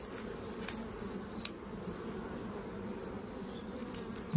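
Honey bees hum in an open beehive during a September inspection, a close, continuous buzzing drone with a few individual bees whining louder as they pass near.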